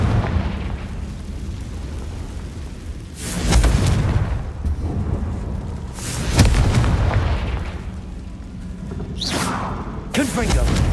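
Confringo spell blasts in the Hogwarts Legacy video game land as several deep booming explosions spaced a few seconds apart, each swelling then rumbling away, over a low game ambience.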